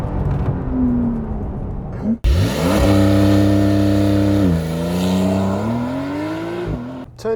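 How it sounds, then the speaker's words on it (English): A 2020 Porsche 992 Carrera 4 with 385 horsepower launches at full throttle from a stop, its engine note rising loudly through the revs, dipping at a gearshift, then climbing again. "Press the brake fully, press the throttle fully, and get ready"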